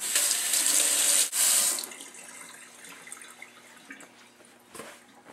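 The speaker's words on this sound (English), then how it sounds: "Wash your hands, dry them again on the same cloth, get it nice and damp." Hands being washed under a running kitchen tap while making focaccia bread: a loud, steady rush of water for under two seconds, then quieter dripping and splashing as the flow stops.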